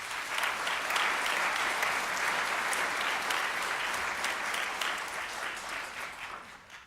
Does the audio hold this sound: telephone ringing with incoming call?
no